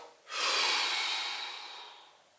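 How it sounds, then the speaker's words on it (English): A single close breath pushed out through the body, rising quickly into a strong airy rush that slowly fades, heard alone during a demonstration of diaphragm and breathing muscles. "But whenever you are breathing out"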